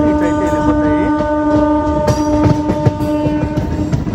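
Vijayawada-Narsapur MEMU Express train running on the tracks near Bhimavaram Junction, a loud steady rumble with sustained tonal motor whine and occasional wheel clunks heard from on board.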